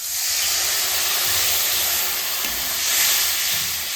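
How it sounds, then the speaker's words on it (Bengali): Water poured into a pan of hot oil with turmeric, salt and spices sets off a loud, continuous steaming hiss that swells briefly near the end, with no talking. "মশলায় সুন্দর তেল ছাড়ে গেছে। এবার জলটা দিয়ে দেবো।"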